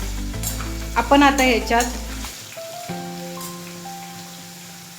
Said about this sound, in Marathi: हा आपला चांगला तेलामध्ये परतला गेलेला आहे.